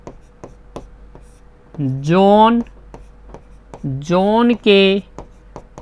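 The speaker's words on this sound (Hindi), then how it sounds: "हल में हम लिखेंगे" Pen or chalk writing out a math solution for a Class 10 quadratic-equations problem: faint, steady scratching and small taps run throughout while someone talks over it in two bursts.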